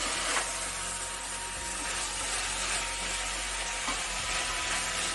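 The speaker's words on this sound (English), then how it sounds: "frying the amaranthus stem, so I don't waste anything." Amaranthus stems fry in a pan for a curry, giving a loud, steady sizzle and crackle that runs unbroken throughout with no talking.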